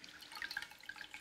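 Water drips and trickles from a tap onto a cloth diaper being soaked with warm water, faint close splashes and droplets in a quiet room, brief and delicate.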